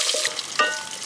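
Mustard seeds, fenugreek, garlic and shallots frying in oil, a steady close sizzle with a slight scrape of stirring partway through.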